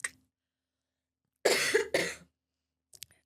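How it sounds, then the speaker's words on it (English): A faint breath, then two harsh, wet coughs close to the mic as if coughing up water, followed by a quiet short cough after a pause. "it's like I'm still coughing up water"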